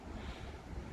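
Ocean waves breaking over shallow water off a point near Ettalong, a continuous rushing wash of surf mixed with wind buffeting the microphone, steady and fairly loud with no voices.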